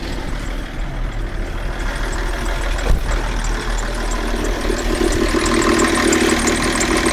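Steady engine idling close by, with a thin high whistle running through the rumble and a brief knock near the middle.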